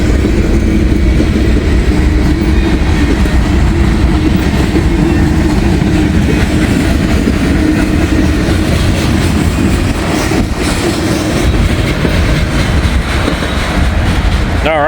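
A freight train rolls past a railroad crossing, loud and close, with a continuous rumble and clickety-clack of cars throughout and no break in the sound.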